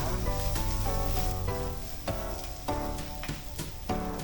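Vegetables fry in a pan until golden brown, giving a steady, close, loud sizzle with occasional stirring clatter throughout and no talking.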